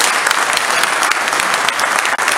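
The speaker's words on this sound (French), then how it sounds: "sous vos applaudissements" Audience applause at a police-zone retirement ceremony, a dense, steady wash of many hands clapping close by, holding evenly throughout with a brief dip near the end.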